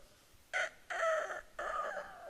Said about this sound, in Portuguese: Cantou o galo.